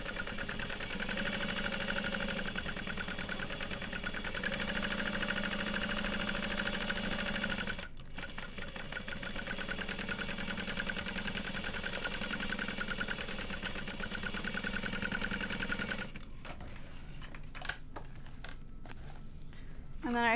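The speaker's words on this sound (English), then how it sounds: "Basting all the way around at 1/8 of an inch." A sewing machine runs steadily, basting around an Evie Everyday bowler bag at an eighth of an inch, a loud continuous whirring hum that stops briefly once, then resumes before ending with a few clicks and rustles.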